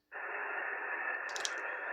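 An amateur radio receiver being tuned across the 15 meter band gives a steady, fairly quiet band of hiss and static, with brief chirpy signal bursts appearing partway through.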